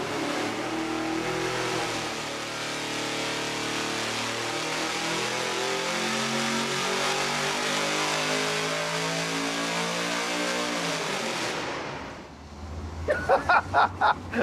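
A loud V8 engine revs hard through 8 feet of open straight-pipe exhaust, its pitch climbing and holding for several seconds before dropping off, then a few quick sharp blips.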